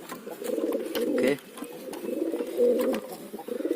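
Pigeons cooing during feeding, low throaty coos repeating close by in a steady murmuring rhythm, with no talking.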